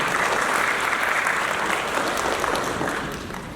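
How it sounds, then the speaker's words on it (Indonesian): Audience applause at a launch event for an Islamic housing development in Malang, East Java: steady, dense clapping from a large crowd that holds loud throughout, then tapers slightly at the end. "Aplaus dulu untuk DPS."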